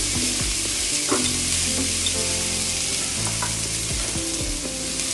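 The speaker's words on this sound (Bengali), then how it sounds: "চিকেনটা আমি কিছুক্ষণ রান্না করে নিব মোটা করে কেটে নিয়েছি কিউব কিউব করে কেটে নিয়েছি" Chicken cubes, cut thick and salted, fry in a pan with a steady loud sizzle and occasional stirring scrapes, continuous throughout.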